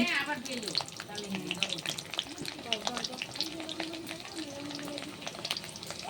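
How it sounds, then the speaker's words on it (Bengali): Garlic sizzling in hot oil with cumin, dried chilli and bay leaf in a wok, a steady crackling fry with brief stirring scrapes, close and moderately loud, with a voice faintly present at times. "জিরা ফোড়ন দিয়ে এবার রসুন,"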